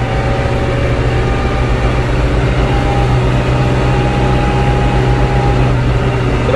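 New Holland TD75D tractor engine running, a steady low diesel drone with a constant hum and rattle, heard close and unbroken with no other sounds standing out.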